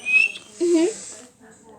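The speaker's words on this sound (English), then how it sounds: "That sounds like a whistle." A whistle on bonfire night, a few short bright whistling tones with a brief rising pitch in the middle, fairly close and clear, with a little background noise between them.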